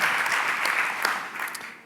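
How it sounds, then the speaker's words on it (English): An audience at a start-up competition applauds, a dense burst of clapping that holds for a moment and then tapers off, with no voices. "If you can give him a hand of applause."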